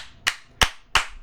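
Three sharp, loud hand claps, evenly spaced and close, alone with no talk over them.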